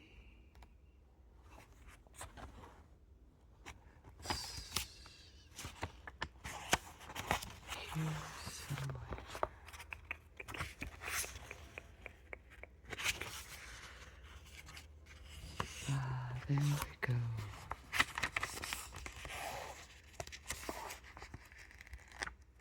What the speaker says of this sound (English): I love paper sounds.